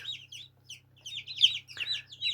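Chicks peep in quick high-pitched bursts, several overlapping, close up inside an incubator, over a faint low mechanical hum.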